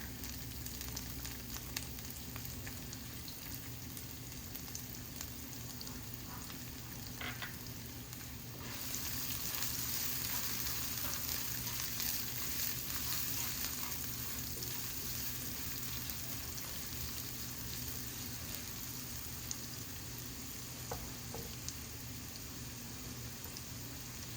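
Garlic and onion frying in a pan for cherry tomato pasta, a quiet continuous sizzle that swells louder partway through, with faint stirring clicks.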